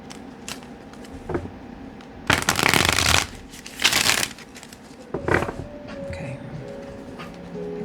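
Tarot cards being shuffled up close in several loud riffled bursts with pauses between them, nobody talking.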